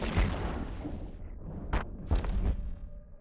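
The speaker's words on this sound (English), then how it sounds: "Those are missile legions, just for those of you not noticing from the effects." Missile launches and explosions from an EVE Online space battle: rumbling booms and bursts with a few sharp whooshing impacts clustered together, loud and close.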